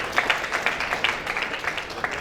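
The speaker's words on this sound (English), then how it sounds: "And next, give yourself a round of applause." Applause from a gathered audience at an annual academies meeting, a moderately loud patter of clapping with a few sharper individual claps standing out, steady and unbroken by voices.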